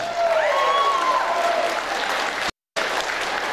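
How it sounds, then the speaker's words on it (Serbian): An audience at a Derby, England diaspora gathering applauds singers with loud, dense, continuous clapping that stops in a brief cut-out near the end and then resumes. "vi ih počastite naravno aplauzom"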